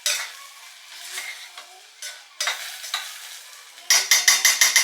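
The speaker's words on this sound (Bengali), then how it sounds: "ডিম ভাজা।" An egg fries in a pan at home: a close crackling sizzle swells and fades in bursts, broken by several sharp metallic stirring scrapes and taps, ending in a quick rhythmic run of clatters, with no voices.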